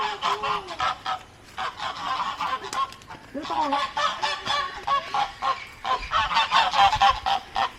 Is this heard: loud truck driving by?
no